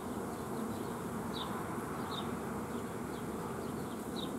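Honeybees hum in a steady, dense drone around hive frames at an apiary, with individual bees buzzing past now and then, and no talk.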